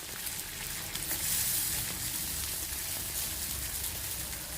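Semolina and banana snack frying in ghee in a pan, a steady close sizzle with a soft crackle throughout, no voices.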